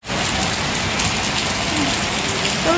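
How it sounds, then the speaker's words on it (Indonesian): Heavy rain driven by strong wind pounds steadily on surfaces outdoors, a dense, loud, unbroken hiss with no voices. "Ya Allah teman-teman, hujannya deras kayak gini"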